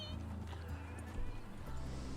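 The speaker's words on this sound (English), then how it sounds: "I love this horse." A horse in the video game RedM gives a steady neighing whinny with clip-clop undertones, close and moderately loud over background game sound.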